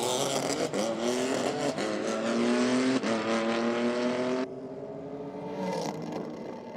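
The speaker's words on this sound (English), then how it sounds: "the BMW wagon taking on the Nissan Skyline." A BMW wagon and a Nissan Skyline launch in a drag race at Sydney Dragway, with loud, high, revving engines climbing through several gear changes before the sound cuts down and fades off into the distance.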